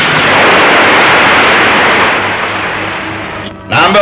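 A cannon fired in a 1964 Turkish war film about Çanakkale, a loud close blast that spreads into a long rumbling roar and slowly dies away before a voice begins at the very end.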